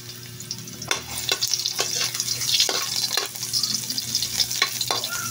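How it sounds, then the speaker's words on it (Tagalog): Onion and ginger sautéing in a little oil for chicken curry, a steady close sizzle with several sharp spatula scrapes and stirring knocks against the pan, no talking. "Kasi gigisa ko na guys ang sibuyas."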